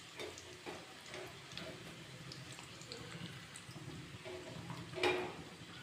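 Cardamom, cumin and curry leaves frying in a pan give a soft, quiet sizzle and crackle, with scattered pops and a brief louder clatter near the end, likely a stir or utensil tap.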